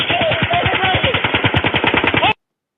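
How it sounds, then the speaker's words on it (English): Gunfire from several guns is caught on body-camera audio. It comes as a loud, rapid, continuous burst of shots, evenly spaced like automatic fire, lasting over two seconds before stopping abruptly. "Well, that sounds like multiple guns."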